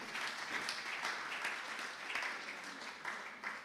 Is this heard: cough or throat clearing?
no